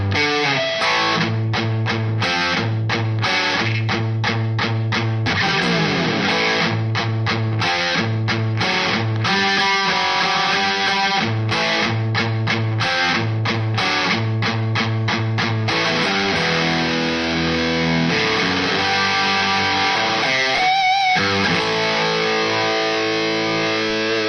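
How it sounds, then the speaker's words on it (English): Distorted electric guitar playing a riff, taken slowly as a lesson run-through, with chugging palm-muted low notes and ringing chords, steady and alone with no talking. "let me put that all together from the lead-in bit, and I'll play it slowly. So it sounds like this."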